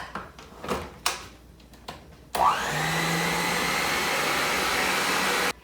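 An electric mixer creams butter with light brown and white sugar for chocolate chip cookie dough, starting after a few clunks and handling knocks and then running as a loud, steady whine with a close, even drone until it cuts off.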